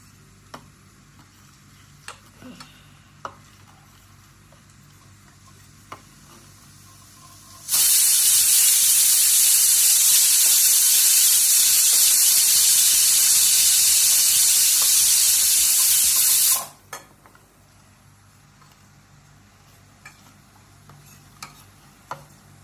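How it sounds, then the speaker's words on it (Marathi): A pressure cooker lets out one loud, steady hiss of steam for about nine seconds, with faint ticks and clinks before and after. "कुकरच्या शिट्या झाल्या"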